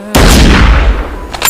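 A single loud sniper gunshot cracks out in a war setting, followed by a long, rolling boom that fades over about a second.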